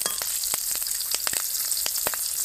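Green chillies sizzle in hot oil with mixed spices for a Bengali gima shak dish, a loud, steady frying hiss broken by quick crackling pops.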